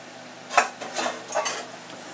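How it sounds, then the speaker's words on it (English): Whipped egg whites being folded into a mixture in a bowl for cloud bread, giving a few soft, scraping, squelchy strokes that come up close and quiet and stand alone without any voices. "you're going to keep folding these until this is all well incorporated"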